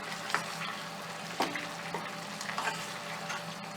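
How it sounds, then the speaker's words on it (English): Pork and chicken adobo being stirred in a pan, with a steady low sizzle and occasional scraping clinks of the utensil against the pan, fairly close and alone. "let's stir it"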